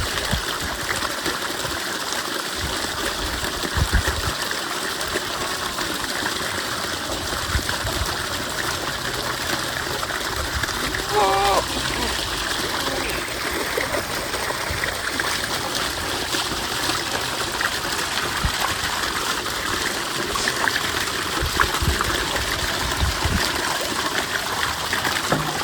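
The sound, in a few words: water flowing from a motor pump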